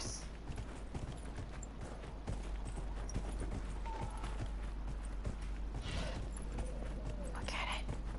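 Horse hooves clip-clop steadily in Dragon Age: Inquisition, a fantasy role-playing game, the rhythmic footfalls sitting moderately loud over a constant game ambience with faint creaking tack throughout.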